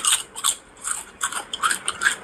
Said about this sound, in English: Sorry for the chewing.